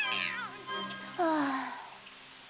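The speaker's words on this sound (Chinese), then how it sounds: "妈妈，快来，有只野猫。" A stray cat in an animated cartoon gives two drawn-out, wavering meows, loud and close, the second falling in pitch, with a faint patter in the background.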